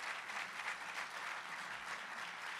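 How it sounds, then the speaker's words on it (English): A large audience at a city's State of the City address applauds in a dense, steady wash of clapping, fairly faint and distant, sustained for a few seconds without talk. "Let's give her a nice round of applause."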